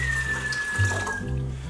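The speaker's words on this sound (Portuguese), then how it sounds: "Bom, você vai colocar primeiro a água." Water, 200 ml, pours into a blender for a detox juice with kale and ginger, a steady close splashing stream with a gurgle partway through.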